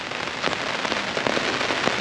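Steady rain pattering on surfaces outdoors in Sumter, Florida, ahead of Hurricane Ian, a dense continuous hiss with scattered sharper drops and no voices.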